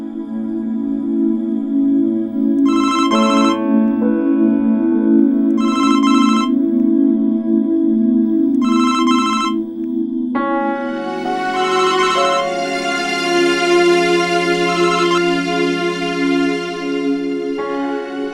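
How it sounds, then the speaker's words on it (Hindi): A telephone rings three times in short evenly spaced bursts over soft background music, which then swells and takes over. "बिलाल का फोन था?"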